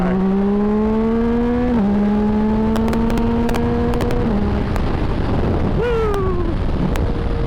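A motorcycle engine revs hard and climbs through the gears while overtaking another vehicle, its pitch rising in steady sweeps with brief dips at each shift. The engine is loud and close, with heavy wind rush over the microphone throughout.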